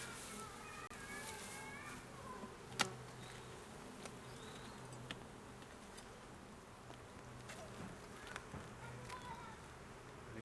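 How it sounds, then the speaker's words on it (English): Honey bees buzzing faintly around a hive frame as they are shaken off, a soft continuous hum with occasional light taps and knocks. "the only way of getting rid of these bees is to do this. You shake them off."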